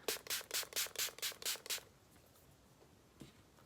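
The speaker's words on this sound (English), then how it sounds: "I'm going to spray some of the setting spray on my face." A setting spray bottle is pumped onto a face in quick succession, about seven sharp misting bursts, followed by quiet and a faint rustle.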